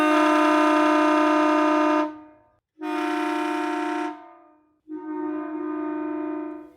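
Kleinn triple train horn with a 150 PSI air system on a 2018 Ford F-150 blasting three times, each long, loud, harmonic chord lasting about two seconds, the last one thinner and slightly lower.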